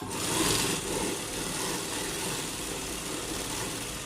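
A sewing machine runs steadily while stitching a lined loose palazzo, its motor giving a continuous, fairly quiet whirring hum with a slight swell at the start and no talk over it.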